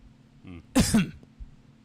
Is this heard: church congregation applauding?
no